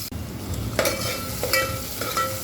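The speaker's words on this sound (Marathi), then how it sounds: "खडे मसाले जळून नाही द्यायचे त्यामुळे पटकन याच्यात कांदा सोडायचा" Onion dropped into hot oil with whole spices such as cloves for a spicy chicken curry, sizzling and frying steadily up close, with a few stirring scrapes of the spoon against the pan.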